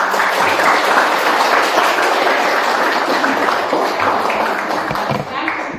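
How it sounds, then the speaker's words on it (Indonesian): An audience at a discussion session bursts into sustained, dense applause, loud and steady for nearly six seconds before tapering slightly at the end. "tepuk tangan"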